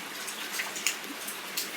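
A continuous wash of falling rain, hissing evenly, with a few distinct drops ticking near at hand. No voices.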